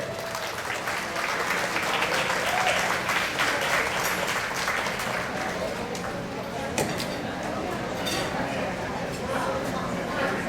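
Crowd applause at an outdoor picnic for an honored elder, a steady dense wash of clapping lasting the whole stretch with some talk and chatter mixed underneath.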